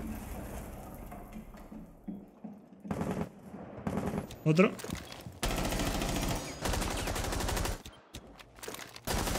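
Rapid automatic gunfire in a first-person shooter game, several loud bursts of machine-gun fire separated by short pauses, with a player talking briefly between them.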